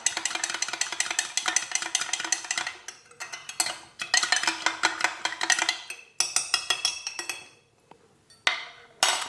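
Spoon or whisk clinking and scraping against a jug while mixing a drink made with sunflower lecithin, in bursts of rapid metallic chinks with short pauses, close and fairly loud, no voices.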